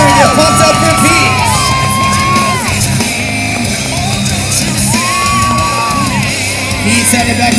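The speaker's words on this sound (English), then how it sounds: "Come on now, crowd. Let's put our hands together and get pumped up for Pete." A fairground crowd at a state fair BMX show cheers, whoops and yells loudly for rider Pete Grant, with sustained roaring noise and overlapping shouts throughout.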